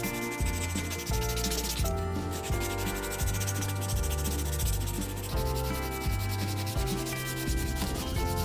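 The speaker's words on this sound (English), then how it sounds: "I start off with 60 grit sandpaper and finish with 120 grit." Sandpaper rubs steadily over an ash wood axe handle in rhythmic back-and-forth strokes, a continuous close, loud rasping with regular pulses and no voices.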